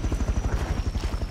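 A helicopter flies in a video game, its rotor chopping in a steady loud rhythm with engine whine throughout, no talk over it.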